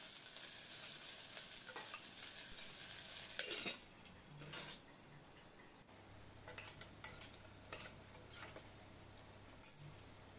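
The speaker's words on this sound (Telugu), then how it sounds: "తర్వాత ఉల్లిపాయ కూడా వేసి మంచిగా ఫ్రై చేసుకోవాలి." Onion fries with three cloves, two cardamom pods and cinnamon in a little oil in a pressure cooker. A loud, close sizzle at first eases to a softer fry punctuated by metal scrapes and clinks of stirring.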